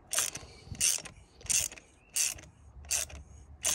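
A ratcheting wrench threading a new glow plug into a 2015 VW Passat TDI diesel engine clicks in six short, evenly spaced bursts, close and fairly quiet, with brief pauses between strokes.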